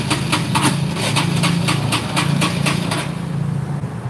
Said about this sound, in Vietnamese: Đâu để nổ máy cho anh nghe nè.